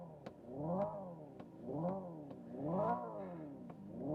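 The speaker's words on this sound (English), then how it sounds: "as you can see, I can rev the engine" A Hyundai Ioniq 5 N electric car plays its simulated engine sound, revving in three rising and falling sweeps with sharp synthetic gear-shift clicks between them, close and steady inside the cabin.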